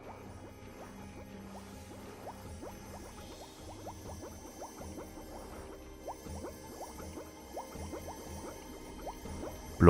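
Continuous bubbling and popping of liquid in a video game, a steady stream of small blips over a low murmur, moderately quiet throughout with no talking.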